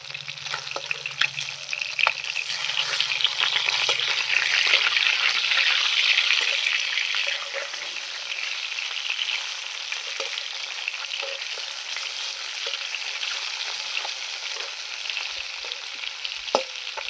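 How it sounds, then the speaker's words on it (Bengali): Katla fish belly pieces fry in oil in a pan with a loud, close, continuous sizzle that eases slightly partway through, with no voices. "মাছ ভাজা হয়ে গেছে আমি তুলে নেব"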